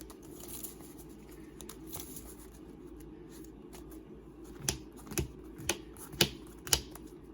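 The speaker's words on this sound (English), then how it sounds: "Shuffle this up just a little bit more." Yu-Gi-Oh! cards shuffled by hand, a faint papery rustle followed by a string of crisp riffle snaps near the end, close and alone without talk.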